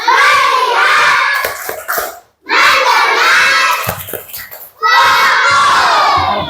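A group of children chants and claps together in a rhythmic classroom ice-breaker, loud and close, in three energetic bursts separated by brief pauses.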